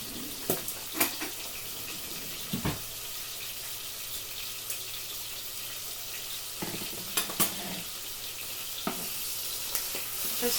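Duck livers frying in a pan, turned until browned: a steady bright sizzle runs throughout, broken by several sharp clinks and scrapes from the turning, with no talking.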